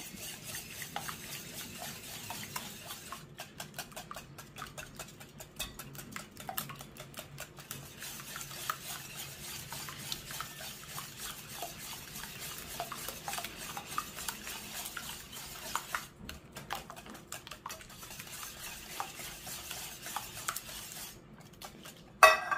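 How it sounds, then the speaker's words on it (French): Cake batter being stirred vigorously in a bowl, a steady run of scraping, clinking utensil strokes against the bowl that continues throughout at a moderate, close level with no talk. "on va mélanger tout l'ensemble énergiquement"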